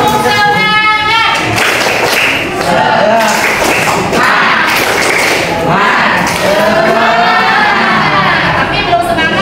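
A group performs the tepuk semangat rhythmic clapping routine, loud claps and thumps in patterned bursts, with voices chanting and calling along amid crowd noise.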